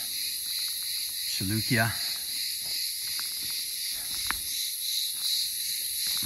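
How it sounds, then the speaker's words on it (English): Crickets and other insects chirp in a steady, high, continuous chorus across the agora of the ancient ruined city of Lyrbe on a quiet morning, with a brief spoken word partway through. "You hear these wonderful bugs."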